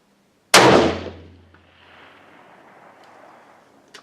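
A single sharp, loud gunshot, fired as a test shot over a chronograph, cracks out after a moment of silence and then decays into a long fading echo.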